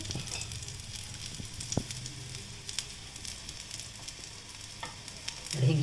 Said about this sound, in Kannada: ಒಂಚೂರು ಎಣ್ಣೆ ಹಾಕಿ ಅದನ್ನು ಬೇಯಿಸ್ಕೊಳ್ಳಿ